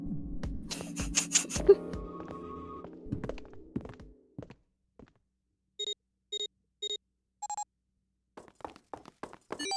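A telephone rings in the video game 999 from The Nonary Games, four short repeated electronic ring tones sounding alone in silence, preceded by heavy thuds and clatter and followed by faint scattered clicks.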